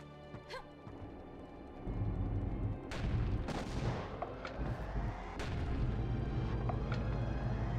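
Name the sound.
cannon firing in video game Kya: Dark Lineage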